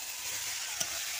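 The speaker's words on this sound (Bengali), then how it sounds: "আমি কষে রাখা কপিগুলো দিয়ে দেব।" Fried cauliflower pieces go into a sizzling spice paste with turmeric in a pan, giving a steady close frying hiss and a brief stir or clatter partway through, with no talking.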